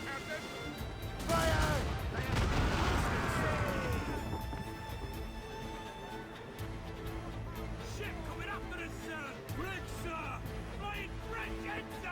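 Ship cannons firing in the Assassin's Creed Rogue video game, a heavy booming volley that swells early and then settles into a sustained rumble, with shouted voices and game music underneath.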